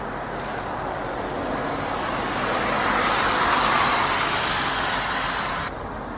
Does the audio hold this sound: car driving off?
yes